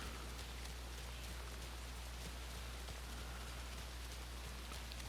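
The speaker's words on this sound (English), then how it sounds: "I like the rain effects, it makes it a lot more creepier." Steady, dense rain falls throughout the Alan Wake 2 game on PS5, a constant wash of downpour with a low background hum and no talk.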